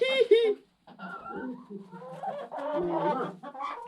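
Chickens on a rural Serbian farm cluck and squawk at feeding time, close by and in irregular bursts, with people talking among the calls.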